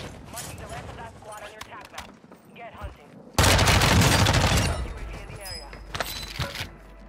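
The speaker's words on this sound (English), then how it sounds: "Somebody was just shooting an M4 right here." M4 rifle gunfire in Warzone 2 rings out as a loud, dense burst of shots in the middle, with scattered fainter reports and a voice talking before and after.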